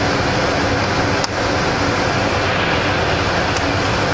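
Steady broadband rush of filtered air blowing from a clean-air flow hood in a hard drive data recovery workspace, constant and fairly loud, with one faint click partway through and no talk.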